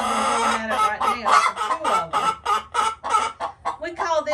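Three roosters crow repeatedly and overlap on a farm where baby goats are kept, loud and close, with some clucking mixed in between the calls.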